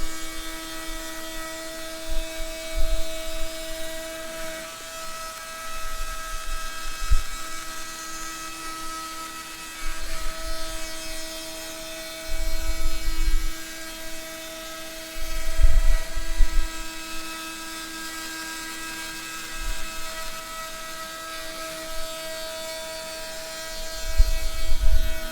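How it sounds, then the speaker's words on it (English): An Arduino-driven homemade CNC router with a 1/4 inch bit roughs out a wooden tray, giving a steady high spindle whine with low rumbling bursts as the cutter bites into the wood. "built CNC machine running with an Arduino."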